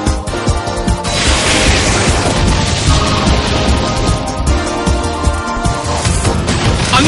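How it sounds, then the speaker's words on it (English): Loud, dense explosion attack from the Pokémon Battle Revolution video game, a sustained crashing blast with bursts of debris and booming impacts filling about seven seconds, no voices. "Annihilated by explosion!"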